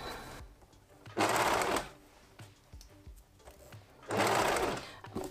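Sewing machine stitching PUL fabric for a reusable bowl cover with elastic, heard in two loud whirring bursts of about half a second and one second, with quiet handling sounds between them.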